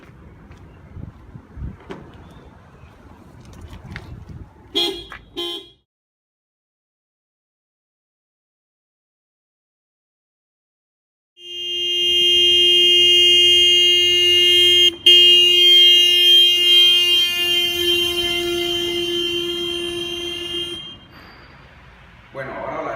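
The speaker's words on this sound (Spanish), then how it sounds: "la comprobación del efecto Doppler va a ser un medidor de frecuencias, un vehículo y su bocina" A car horn, used to test the Doppler effect, sounds one long, loud, steady blast of about ten seconds after a silent gap, with road noise and voices before it.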